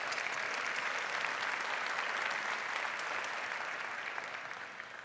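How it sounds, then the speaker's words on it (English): An audience at a graduation ceremony applauds steadily, a dense wash of clapping heard from within the hall that begins to fade toward the end. "A round of applause, please."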